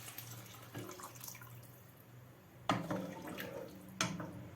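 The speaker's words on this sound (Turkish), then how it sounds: "Bir suyu ekliyorum" Water poured into a cooking pot of meat and chickpeas with yogurt, a soft splashing pour that starts and stops in a few short bursts, fairly quiet and close.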